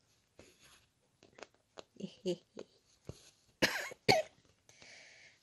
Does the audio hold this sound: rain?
no